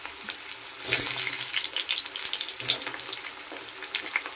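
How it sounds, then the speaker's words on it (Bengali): Half-boiled potatoes go into hot oil after fried onions, raising a crackling sizzle that swells as they land, with stirring scrapes and a watery hiss, close and steady without talk. "এবার আমি আলুগুলোকে দিয়ে দিচ্ছি"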